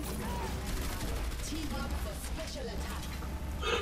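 Rapid gunfire in a team shooter video game, a busy rattle of shots and weapon clatter running steadily under people talking.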